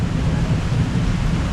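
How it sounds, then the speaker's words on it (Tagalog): Heavy thunder rumbles loud and low through a rainy storm, a continuous deep roll with wind-like noise and no voices. "Lakas ng kulog."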